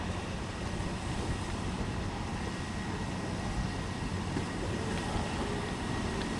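A train rumbles past nearby with a dense, steady roar of wheels and machinery, loud throughout with no voices.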